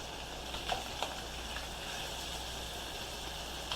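Onion sizzles faintly in a pan alongside sausages, a soft, steady hiss with a few light clicks and pops from the cooking.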